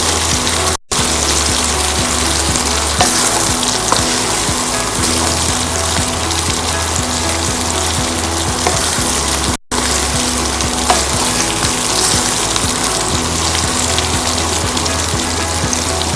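Food lightly frying in a handi gives off a loud, continuous close-up sizzle with soft stirring scrapes throughout and two brief dropouts.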